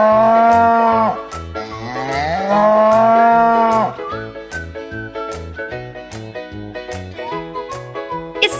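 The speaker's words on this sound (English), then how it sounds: "It's the sound of cow." A cow moos in long, drawn-out lowing calls over a bouncy musical backing with steady percussion, the moo loud and prominent near the start.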